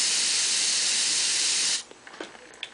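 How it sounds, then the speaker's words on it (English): Steady, loud hiss of an airbrush blowing air through its loosened nozzle to back-bubble and mix paint in the cup, running continuously for nearly two seconds before cutting off abruptly, leaving faint light clicks and handling noise. "Loosen your air nozzle and you can blow some air through, pull that trigger back, and it's going to mix your paint in the cup"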